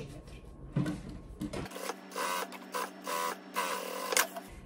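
A sewing machine stitches a narrow 0.5 cm seam on fabric in several short whirring bursts separated by brief pauses, fairly quiet and close.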